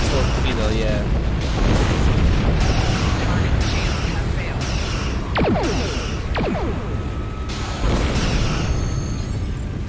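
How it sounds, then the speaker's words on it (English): Explosive booms from a plasma torpedo strike in the space-combat video game Star Trek Online, heavy rumbling blasts with sharp sweeping zaps, running continuously under a voice. "Plasma torpedo, yeah."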